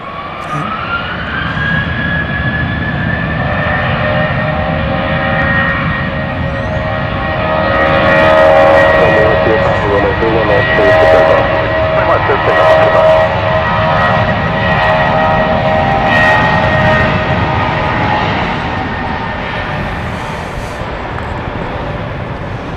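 A Southwest Airlines jet at Dallas Love Field roars steadily and loudly throughout, its engine whine rising and holding while the noise swells and then slowly eases.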